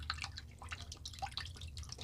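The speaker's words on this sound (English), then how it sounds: "Because I can stick my brush in my stamp water." A paintbrush dipped and swirled in a small cup of water beside a textured graffiti-wall painting, producing faint close drips and light splashes, quiet and intermittent with no talking.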